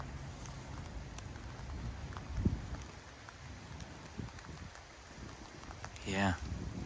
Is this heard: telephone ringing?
no